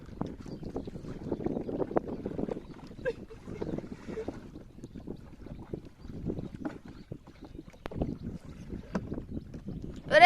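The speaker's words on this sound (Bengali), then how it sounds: "নৌকা যেন এরকম তীরের দিকে যায়।" A boat is rowed on a river toward the shore, giving repeated water splashes and sloshing with wind buffeting the microphone, steady through the stretch.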